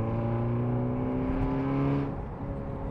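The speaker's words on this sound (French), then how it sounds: "Oui, l'échappement est bruyant, je sais." Loud exhaust from a car with a catalytic converter, a steady low droning rumble with strong tonal hum at idle or light throttle, close by and alone, easing slightly near the end.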